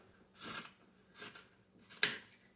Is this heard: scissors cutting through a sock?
yes